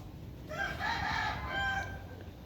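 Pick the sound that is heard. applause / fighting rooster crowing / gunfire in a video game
fighting rooster crowing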